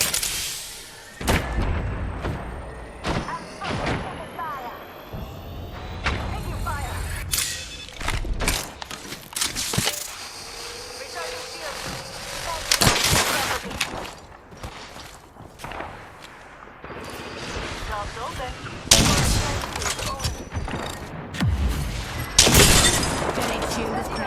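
Weapon fire in the Apex Legends battle royale game, with irregular loud bursts and single shots mixed with impacts and footsteps, while in-game character voices speak over the action.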